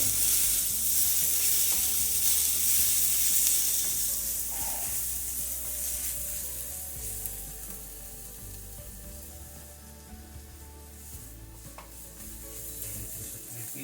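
Garlic frying in a pan while goto, a Filipino rice porridge, is being cooked: steady, close hissing sizzle with occasional stirring scrapes, loudest at first and easing slightly over time, with no talking.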